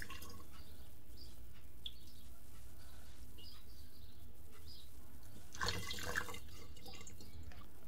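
Liquid is poured from one container into another bottle, a soft, quiet trickle with splashing and drips, stronger for a moment near the end, with faint background sounds.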